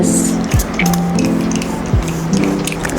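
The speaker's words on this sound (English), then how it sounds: "makeup fixing spray" A short hissing spray of makeup fixing spray rises over a steady low hum in the room, with faint clicks and soft movement around it.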